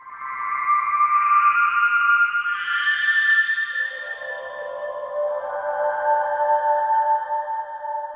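Omnisphere's sample engine plays the sample Evaporate as sustained, breathy tonal chords that shift pitch partway through, smooth and haunting, alone without any talk.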